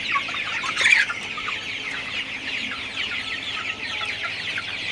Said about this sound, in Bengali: তো আমার এই সেটে মুরগি হচ্ছে 1500 মুরগি আছে।